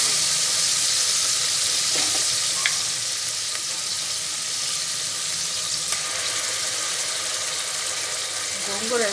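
Ginger garlic paste frying in a pan for a Telangana lamb and gongura curry, a steady broadband sizzle lasting throughout with a few faint clinks of a spoon against the pan.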